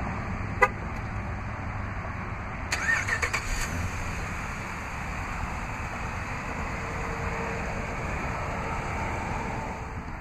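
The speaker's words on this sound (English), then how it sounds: "this vehicle is equipped with a remote start. To operate is easy. Just double press the remote start button on the key fob." A 2012 Jeep Grand Cherokee Overland 4X4 starts by remote start, preceded by a short chirp and a quick series of clicks and beeps, after which the engine settles into a faint, steady idle.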